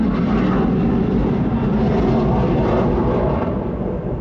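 A loud, steady broadband roar of a jet aircraft passing overhead, rumbling continuously throughout with no voices.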